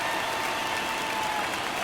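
A stadium crowd in MLB The Show 23 keeps up steady, dense applause and cheering throughout, a continuous roar with no clear breaks.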